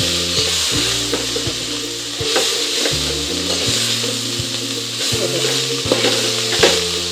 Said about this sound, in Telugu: మనం ఆయిల్లో మంచిగా ఫ్రై చేసుకోవాలి ఇట్లా